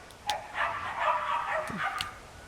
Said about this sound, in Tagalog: Ingay na naman yung mga alaga kong aso.